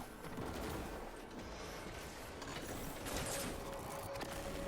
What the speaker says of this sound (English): then just start shooting Leviathan's Breath at it